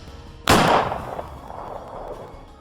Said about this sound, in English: That was when he heard the gunshot.